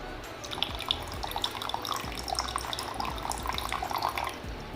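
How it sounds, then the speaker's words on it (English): Water trickles and splashes steadily out of a hole in a plastic bottle once its cap is loosened, a continuous close running-water sound with small drips, no talking. "gets in and water flows out from hole."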